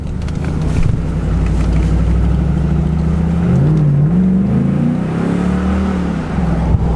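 Chevrolet Trailblazer SS, 12 years old, driving down a road: a steady, close engine drone with a deep exhaust note rising and falling as it accelerates, no talking.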